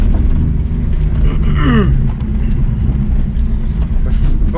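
A Porsche 911 Turbo 997.2 with PDK transmission drives with a loud, steady low engine and road rumble inside the cabin, one brief rising tone partway through.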